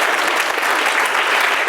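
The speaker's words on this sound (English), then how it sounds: "can I get everyone to give a really big clap?" A conference audience gives a big, loud round of applause, dense continuous clapping from a large crowd filling the room without pause.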